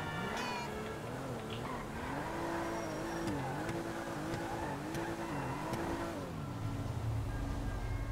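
Mercedes AMG GTR engine in GTA 5, a revving, rising and falling engine note with gear changes that builds to a louder growl near the end, steady and fairly close throughout.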